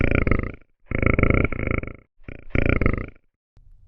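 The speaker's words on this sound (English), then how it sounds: "The pig says," A pig grunts close up in a series of loud, rough, throaty bursts, three long ones and a shorter one, each broken by brief silences.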